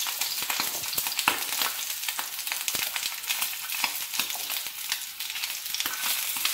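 Sliced bitter gourd (karela) frying in oil on a low flame, a steady crackling sizzle with scattered sharp pops and occasional stirring scrapes, close and fairly quiet, with no talk.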